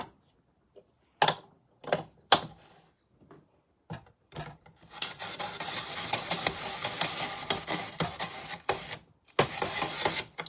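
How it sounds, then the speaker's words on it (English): Cucumbers are sliced on a Princess House 3 in 1 grater: a few separate scraping strokes first, then a steady, close run of rasping, rhythmic slicing that continues to the end. "Let's do some sliced cucumbers."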